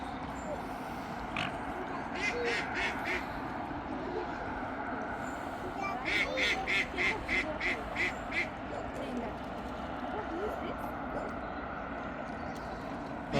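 Bursts of rapid duck quacking over a steady outdoor rumble, moderately distant, with the calls clustered in a lively run partway through.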